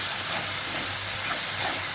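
A ground spice paste hisses steadily as it fries in a hot pan over onion and tomato for a raw banana vegetable dish, a close, even sizzle with no talk.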